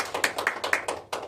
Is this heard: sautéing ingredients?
no